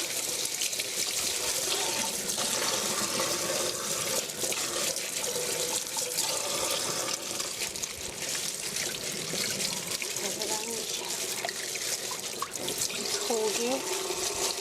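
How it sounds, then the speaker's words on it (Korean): A tap runs into a sink while a whole chicken is rinsed under it, making a continuous close splashing rush with shifting gurgles as the bird is turned and handled; a voice talks quietly underneath. "이렇게 해서 흐르는 물에"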